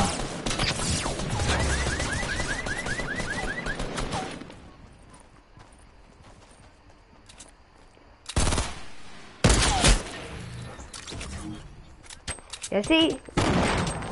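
A burst of rapid automatic gunfire from an AR rifle in a PS4 shooter game rattles loudly at the start, followed by quieter stretches and a few sharp loud blasts later, with someone talking over it.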